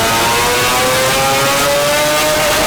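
A loud turbocharged inline-six engine in a Trailblazer revs steadily under a continuous exhaust drone, its pitch climbing slowly throughout, with no voices.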